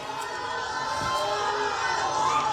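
A crowd of protesters camped out at a rally boos and jeers, a sustained mass of voices heard at a distance, steady throughout.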